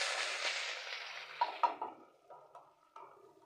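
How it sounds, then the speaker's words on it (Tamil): Mustard seeds, onion, curry leaves and rampe leaf sizzle loudly in oil in a frying pan for noodles. The hiss fades within two seconds, followed by a few soft clinks of a utensil against the pan. "கடுகு போட்டிருக்கேன். அதுக்கப்புறம் வெங்காயம், கறி லீவ்ஸு, ரம்ப இலை"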